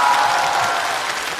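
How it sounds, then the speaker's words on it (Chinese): A studio audience at a stand-up comedy show applauds, a dense even wash of clapping that tapers slightly over a brief moment. "再次把掌声献给所有的观众以及漫才兄弟。"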